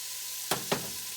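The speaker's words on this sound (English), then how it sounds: "we're going to go ahead and add our onions and our garlic to our pot" Onions and garlic dropped into hot oil in a pot while making steak and brown gravy, two quick loud bursts of sizzle over a steady hiss, with no voices.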